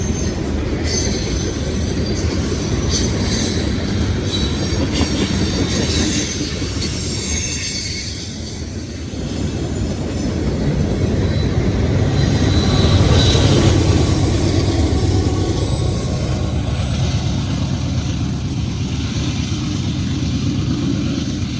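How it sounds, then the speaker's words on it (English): An eastbound freight train with a hard-working DPU locomotive rumbles past close by, a loud, steady roar of engine and rolling cars with wheel squeal and clatter, swelling again in the second half. "that DPU was really working hard"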